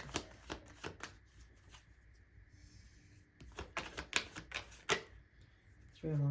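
Tarot cards are shuffled and drawn by hand: quick papery riffles and flicks in short bursts, close and fairly quiet, with a brief pause in between.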